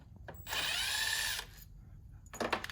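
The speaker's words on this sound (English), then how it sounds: "we just gotta take off 2 T25" Power drill-driver briefly whirring to back out a T25 Torx screw on a solenoid and sensor bracket, one steady burst of about a second, close and fairly loud, followed by a short second burst of tool noise.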